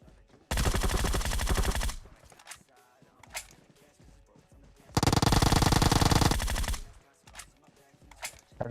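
Two loud bursts of rapid AWM sniper rifle fire in Battlegrounds Mobile India, each lasting over a second, separated by quieter thuds and scattered clicks.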